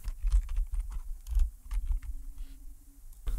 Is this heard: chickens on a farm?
no